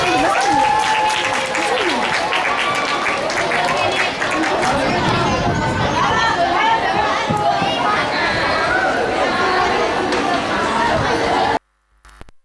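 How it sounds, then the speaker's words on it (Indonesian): Audience applause and crowd noise fill a school performance hall after a colossal drama about the Rengasdengklok tragedy, a loud, dense clapping roar with babble and shouts that stops abruptly at the end. "Beri tepuk tangan yang meriah."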